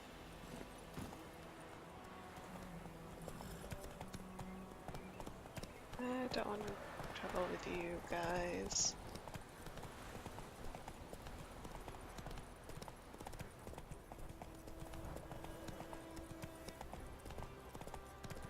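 Horse hooves clip-clopping in the video game Witcher 3, a steady rhythmic trot in the foreground with someone talking over it.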